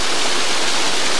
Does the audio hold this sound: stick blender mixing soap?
no